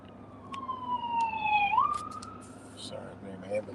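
Ambulance siren passing outside, a wailing tone sweeping down and then sharply up before fading, moderately distant, with someone talking over it.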